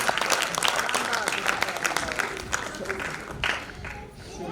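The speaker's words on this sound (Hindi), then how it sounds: "एक बार जोरदार वाली तालियां दो भाई" An audience at a Hindi poetry recital claps loudly and steadily for several seconds, with a host's voice calling out over the applause.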